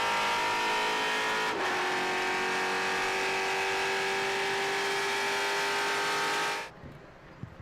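A TA2 race car engine heard from an onboard camera at VIR, a loud sustained high-revving wail with a brief gearshift dip, holding steady for several seconds before cutting off abruptly to quiet.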